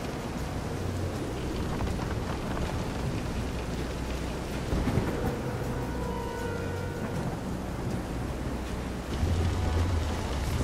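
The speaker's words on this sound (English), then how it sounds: "This is some storm." Thunderstorm at sea aboard a pitching boat in the video game Visions of Mana, heavy rain hissing steadily with low rumbles of thunder and swelling water, no talking.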